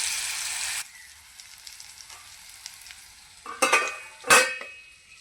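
Bitter gourd fry being stirred in a pan: a strong broadband sizzle at first, then quieter frying with two loud scraping stirs near the end, no talk.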